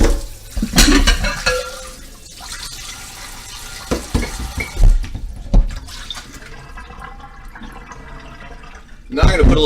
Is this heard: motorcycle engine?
no